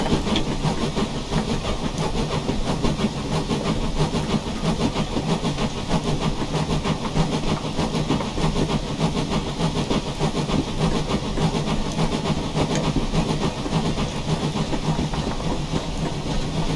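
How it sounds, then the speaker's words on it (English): An LNER J21 0-6-0 steam locomotive in Train Simulator Classic chuffs steadily, with rhythmic exhaust beats, rail clatter and hiss, loud and continuous without talk. "Really nice chuff sounds."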